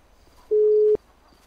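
A single steady electronic telephone tone of about half a second, sounded while placing a call, clear and alone against a quiet background.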